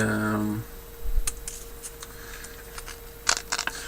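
A voice briefly at first, then a handful of short, dry scraping strokes of fine-grit sandpaper against hardened filler on a model base, spaced irregularly and close by.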